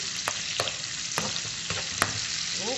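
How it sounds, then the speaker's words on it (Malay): Steady oily sizzle of blended ingredients frying in a pan until wilted, with a few sharp scraping clicks from stirring scattered through. "Kita kena goreng dulu sampai layu."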